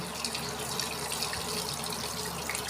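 Steady running water from a kitchen tap while fish are being washed, a continuous close splashing rush with no voices over it.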